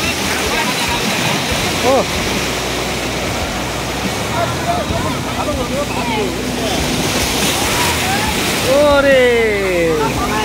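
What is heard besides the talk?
water waves crashing at Digha river mouth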